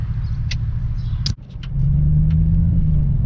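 A car out on a test drive for a ticking under load, its engine a steady low rumble up close, then a brief dip before the note rises into a firmer, smooth drone.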